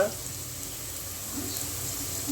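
Onions and turmeric frying and being stirred in a pan for a fish curry, with a steady soft sizzle throughout at low level and no clear separate strokes.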